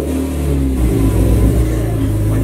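A fast car's engine revving hard and loud up close, a steady roaring rise with no break, no voices over it.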